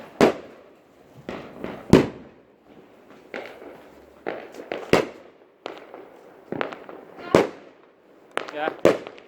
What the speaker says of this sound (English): And we have fireworks and marshmallows. Fireworks, baby. Sparklers.